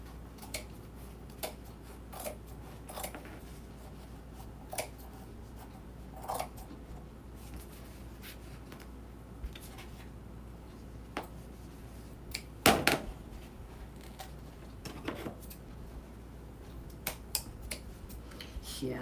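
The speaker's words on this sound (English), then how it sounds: "these scissors are going too" Scissors snip in a run of sharp, dry clicks at irregular intervals, fairly faint over a low steady background hum, with one louder snip partway through; no one speaks.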